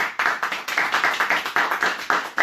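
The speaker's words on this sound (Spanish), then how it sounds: "denle un fuerte aplauso al Señor." Church congregation applauding together during a sermon, steady crowd clapping that sounds close and fairly loud, with dense overlapping claps across the whole stretch and no voices.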